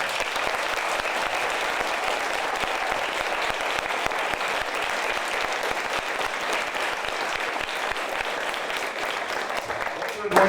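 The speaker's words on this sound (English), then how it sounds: "let's give them one more hand" An audience applauds the mock trial teams at a Texas high school state championship round, steady sustained clapping from a sizable crowd that continues for about ten seconds.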